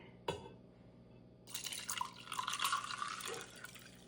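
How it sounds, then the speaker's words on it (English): Fireweed-infused drink poured into a cup already holding ice: one clink, then a steady close splashing, gurgling pour lasting a few seconds, rising in pitch as the cup fills. "And we'll pour this out right in there."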